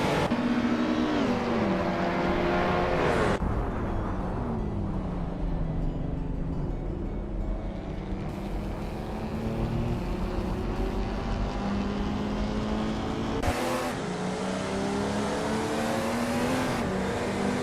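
Race cars in a racing video game roar past in a continuous engine drone, pitch rising and falling through gear shifts, with sudden loud passes cutting in near and fading away.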